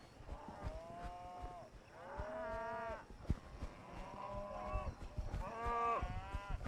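Cattle being driven uphill by riders on horseback moo repeatedly, several long overlapping calls close by, with hoof and movement noise between them and no talk.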